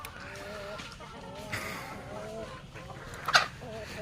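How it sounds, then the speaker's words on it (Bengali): Soft, scattered clucking from a few hens at close range over a low background hum, with a brief sharp noise near the end. "এই মুরগিগুলো"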